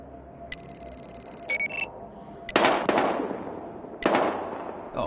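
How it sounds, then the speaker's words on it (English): Gunfire in the video game Battlefield Hardline: a few sharp, loud bursts of shots ring out after an electronic beeping tone, each with a decaying tail. "We've got gunshots. We're engaging. Gunshots reported at 3rd and 33rd."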